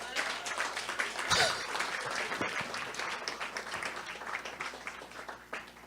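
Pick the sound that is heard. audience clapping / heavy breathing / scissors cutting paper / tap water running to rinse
audience clapping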